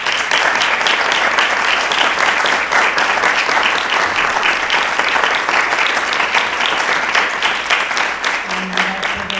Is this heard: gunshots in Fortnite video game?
no